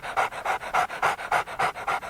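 A police dog pants rapidly and steadily close by, about eight quick rhythmic breaths in a short burst, loud and with no talk.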